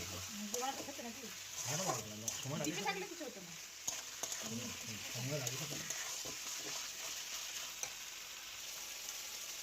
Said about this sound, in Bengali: দেখো, আমি চিকেনটাকে একটু ভালো করে নাড়িয়ে নেবো।